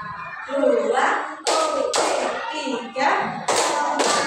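A class of children clap their hands together in counted unison, loud sharp group claps landing in a slow rhythm, with an adult voice giving the count between them.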